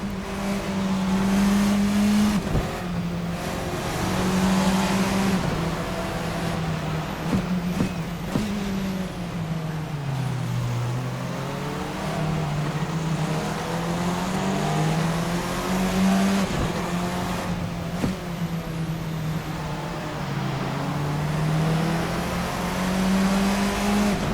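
A Formula 4 race car engine in a video game drones steadily at high revs, pitch rising and dipping with gear changes, loud and continuous throughout with no talking.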